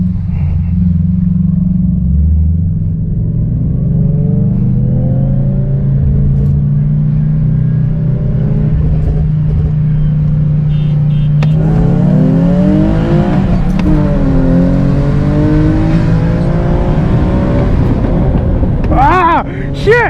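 An E85-tuned Infiniti G37 accelerates hard in a race, its loud close engine rumbling and rising through the revs, dipping around a missed shift, then climbing again, with a voice shouting over it.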